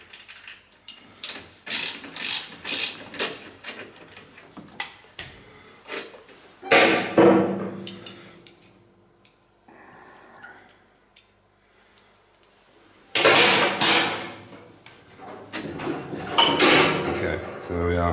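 Metallic clinks, ratcheting and tool clatter from disconnecting the shock absorber from the bottom arm of a Jaguar E-Type, in irregular close bursts with quiet gaps between them.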